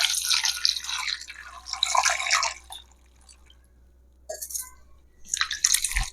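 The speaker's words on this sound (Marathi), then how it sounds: "तर मी त्यासाठी आंबे धुवून घेते" Alphonso mangoes are washed in water, with splashing and trickling bursts, a quiet pause, then more dripping and sloshing, close and moderately loud.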